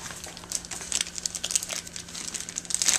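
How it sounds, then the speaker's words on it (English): A plastic bag crinkles and rustles close by in quick, irregular bursts, with no talking. "Now it goes in a plastic bag and ready to go for sale."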